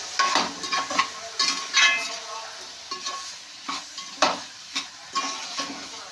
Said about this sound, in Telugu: వేసుకున్నాక ఇలా మొత్తం అంతా కలుపుకోవాలి.